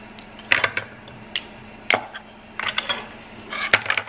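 A knife cutting an avocado in half for guacamole: a few sharp clicks and light taps against a hard surface, with short scraping sounds between them, close and fairly quiet.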